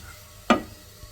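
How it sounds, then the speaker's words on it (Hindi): Maida flour roasts in a pan with other ingredients; a single quick scrape of the spoon stands out against a quiet background. "और मैदे को हम थोड़ा भून लेंगे पहले"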